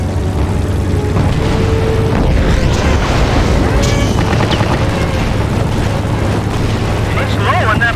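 A target blown up in the World War II flight combat game Secret Weapons Over Normandy, a deep rumbling boom swelling amid continuous engine drone and gunfire, loud and dense throughout, with voices talking over the action.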